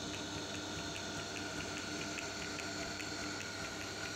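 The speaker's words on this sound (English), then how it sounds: "The lathe is at a good working height, making for a comfortable experience." An Emco Unimat 3 lathe, freshly oiled after years unused, runs steadily with a faint, even motor drone and light mechanical whir throughout, no voice present.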